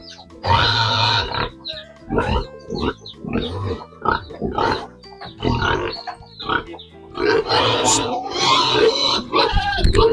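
A farm-raised pig grunts and oinks close by in a rapid run of loud, uneven bursts that continue across about ten seconds.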